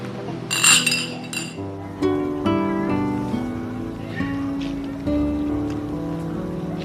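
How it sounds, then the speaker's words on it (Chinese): Glasses clink in a toast at a family gathering: a quick burst of bright clinks near the start, followed by background music. "来，为弟媳妇儿干杯！"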